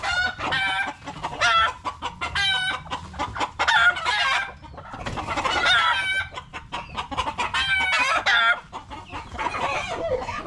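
Many thirsty chickens cluck and squawk nearby in overlapping bursts, a busy, restless chorus of hens with occasional louder calls rising above the flock.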